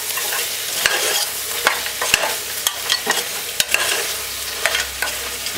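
Spoon stirring curry goat meat in a pot, with repeated sharp scrapes and knocks against the pot at an irregular rhythm over a steady low simmering hiss, close and fairly loud, no voices.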